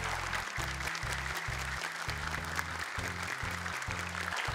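An audience claps for Quran reciter Kausar at a hafiz memorization event, steady applause under a looping low musical tone, moderately quiet throughout.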